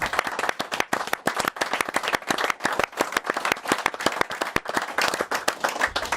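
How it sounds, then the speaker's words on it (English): Studio audience applause for a TV show, a dense, steady burst of many hands clapping close up that carries through the whole stretch at even loudness, with a faint voice briefly under it. "I think it deserves a round of applause"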